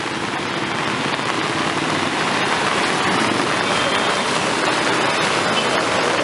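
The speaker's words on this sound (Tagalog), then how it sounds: "Lalo lumakas ang ulan." Heavy rain pours steadily during the rainy season, a dense, loud, unbroken hiss of water beating down on surfaces throughout.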